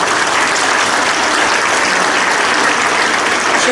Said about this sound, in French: Je crois qu'on peut vraiment applaudir